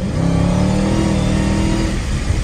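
A 2023 Dodge Challenger Hellcat Redeye Widebody engine revs hard while the car is driven, a loud, continuous, close roar with sustained droning tones that hold and then ease off near the end.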